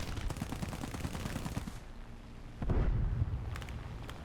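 Gunfire in the video game War Thunder comes as rapid repeated automatic shots, then a heavy deep boom with rumbling follow-through and a few sharper cracks, loud and close, with no talk.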